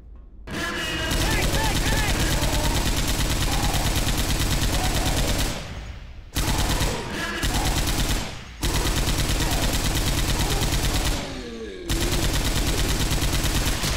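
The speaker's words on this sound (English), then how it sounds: "Grabbing the chain gun." Sustained chain gun fire roars loud and close in the zombie shooter Left 4 Dead 2, a dense continuous rattle broken by three short pauses between long bursts.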